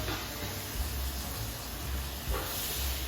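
Burgers sizzling in a pan on a home stove: a continuous, even hiss of frying fat with faint pops and crackles, close and steady throughout.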